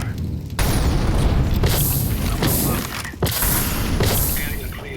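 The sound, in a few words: incendiary grenade thrown in a video game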